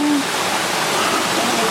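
River water running over rocks in a shallow stretch of a mountain river, a steady broadband rush close by with no pauses.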